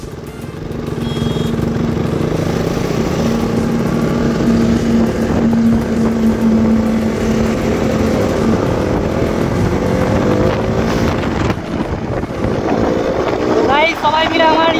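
A KTM Duke 200 BS4 motorcycle is being ridden, its exhaust a steady, loud engine drone with gusting wind noise over the microphone.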